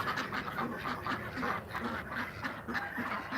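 Domestic ducks quack in quick repeated bursts as they are fed on a cold day, their feed mixed with a little egg; a steady, fairly close chorus carries on throughout.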